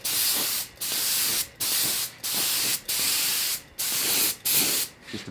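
Spray gun laying a final blue coat over a tank, loud close bursts of hissing spray repeated in a steady rhythm with short gaps between passes.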